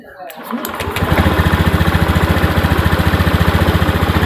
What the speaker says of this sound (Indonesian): kita kontak motornya, lalu kita tekan starternya